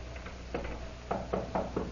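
Knocking on a locked door in an old radio drama, a few soft raps followed by a quick series of firmer knocks in small clusters, heard alone against a low hum.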